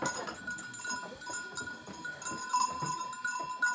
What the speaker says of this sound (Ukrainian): Які гарні у вас вівці, чистенькі.